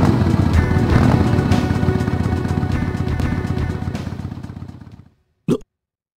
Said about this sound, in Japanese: バイクのエンジン音。